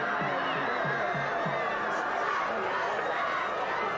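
A fired-up B.B. Comer high school football crowd roars from the stands in a game against Vincent, a dense, continuous wash of cheering and shouting heard from a distance, with a few rhythmic thumps early on.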